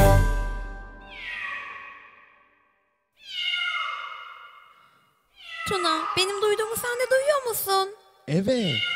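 Cats meow in a children's cartoon, two drawn-out rising and falling meows with a pause between them, followed by a busier stretch of overlapping bright, warbling calls.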